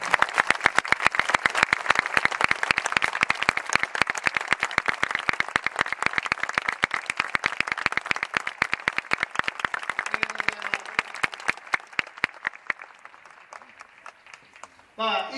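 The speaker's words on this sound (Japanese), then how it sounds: "拍手を上げてください。" A stadium crowd gives steady rhythmic applause for the players at the Urawa Reds Ladies season-ending ceremony after a match against Tokyo Verdy Beleza, sustained and loud, then thinning and fading out near the end.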